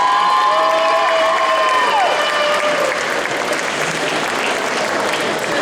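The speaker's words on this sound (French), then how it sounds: "faites un tonnerre d'applaudissements à Médéis." A crowd at a cosplay contest breaks into loud applause and cheering, with whoops and shouts over steady clapping, while whistling tones ring out near the start.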